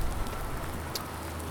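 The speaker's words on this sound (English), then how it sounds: "even though it's raining" Steady rain falls in Farming Simulator 19, a continuous even patter of drops that holds at the same level throughout with no voices.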